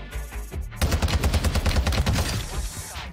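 A rapid burst of automatic gunfire in Warzone 2, a TAQ-V battle rifle match, rattles out in quick, evenly spaced loud cracks for about two seconds after a short lull.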